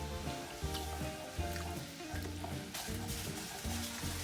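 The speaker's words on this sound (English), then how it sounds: "So there's your garlic in the oil." Garlic sizzling in hot oil in a pan for a spaghetti and clam sauce, a steady close crackle running throughout beneath low stirring and pan clatter, with no talking.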